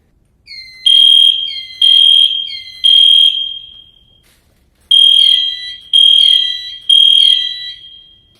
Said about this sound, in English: Sometimes a drill is signaled solely by the fire alarm.